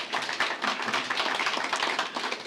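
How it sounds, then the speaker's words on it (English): An audience claps at a bank's investor presentation of a combined offer. The applause is dense and steady, a continuous patter of many hands, held at an even level for the whole span with no voices. "I think we deserve a round of applause for that"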